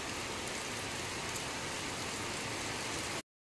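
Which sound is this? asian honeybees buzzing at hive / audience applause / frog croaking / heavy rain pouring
heavy rain pouring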